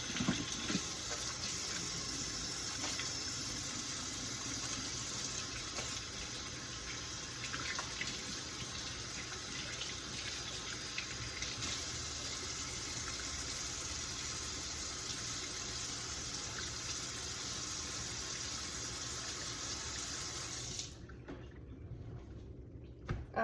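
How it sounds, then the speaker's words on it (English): Water runs steadily from a tap during handwashing, a constant close hiss and splash lasting about twenty seconds before it shuts off, leaving faint room sound. "I'm going to wash my hands."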